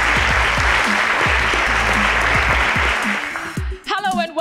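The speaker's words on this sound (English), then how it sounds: "A round of applause for both teams." Loud, dense applause fills a school hall for both teams at a junior secondary schools interschool quiz contest in Nigeria, sustained clapping that thins out near the end as a voice begins speaking.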